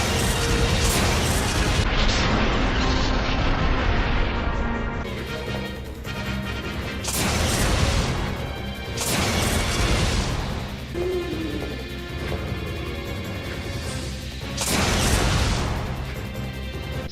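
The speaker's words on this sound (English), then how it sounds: "We're testing it on Alexia Ashford, and watching the massive explosion that comes along with it" Heavy booming explosions from the linear launcher in Resident Evil Code: Veronica X, fired at the boss Alexia Ashford. Four loud broadband blasts come roughly seconds apart, each with a crashing rumble that trails off over steady game ambience.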